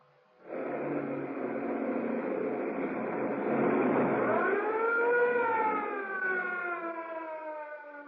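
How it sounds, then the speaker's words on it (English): A police car siren wails loudly and continuously during a high-speed chase through narrow waterfront streets in a radio drama, its pitch sweeping upward and holding in a steady, sustained tone with no voices. "Threading their way at breakneck speed through the narrow streets around the waterfront, the police car follows the fleeing sedan."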